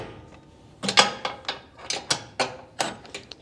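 A wrench ratchets quickly while tightening a bolt on a Lippert Ground Control 3.0 electric leveling kit on a 2022 Forest River RV, giving a string of close, crisp metallic clicks in uneven bursts.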